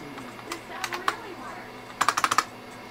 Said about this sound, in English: Some keystrokes I have.